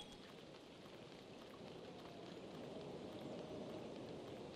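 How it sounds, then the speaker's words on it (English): Steady rain falls in a survival video game set among dinosaurs, a continuous soft hiss and patter that swells slightly louder toward the end, with no voices over it. "We'll drink some of the rain."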